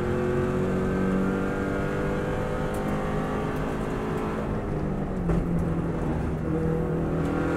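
A Subaru WRX STI rally car runs flat out on the Isle of Man course, its engine holding a loud, steady, strained roar throughout with a brief dip and surge near the end.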